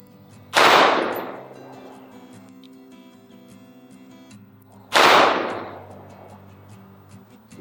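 A SAR USA CM9 Gen 2 9mm pistol fires two sharp, loud shots of 124 grain +P Federal HST about four seconds apart at an outdoor range, each crack decaying into a ringing tail.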